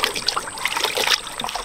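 A cooling neck cover dunked into water gives a brief burst of sloshing and splashing with dripping trickles, close and fairly steady throughout, with no voices.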